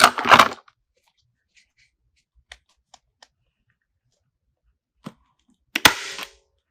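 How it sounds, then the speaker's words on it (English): A staple gun fires into the thin edge of a church Christmas wreath: a loud snap at the start, a few faint clicks and small taps, then another sharp punch near the end, each alone with no talk. "if you're really good with your staple gun"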